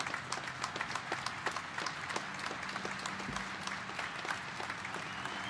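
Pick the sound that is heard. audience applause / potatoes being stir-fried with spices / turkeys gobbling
audience applause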